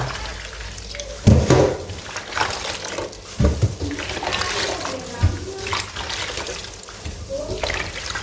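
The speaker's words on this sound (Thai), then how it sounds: "ล้างน้ำสะอาดล้างน้ำสามรอบค่ะ" Kaffir limes being rinsed in clean water, with splashing and sloshing in bursts that come and go, some louder surges and steady running water, and someone talking over it.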